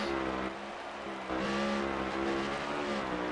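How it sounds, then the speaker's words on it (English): A race car engine in a racing video game at Daytona, revving hard with a stuttering, lagging pitch that dips and then climbs again, loud and continuous from start to finish. "And you can hear it in his engine noise. He's certainly lagging."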